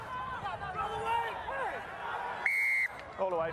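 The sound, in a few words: referee's whistle at rugby match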